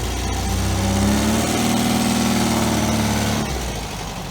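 A 1973 MGB GT engine runs steadily and loudly up close with a sustained mid-pitched drone, then eases off near the end of the lap.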